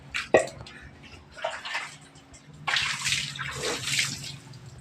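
Water is poured with a dipper over a pet dog named Cody during a bath, arriving in several separate splashing bursts with quiet gaps between them, close by, with a faint voice and a brief cough-like sound near the start.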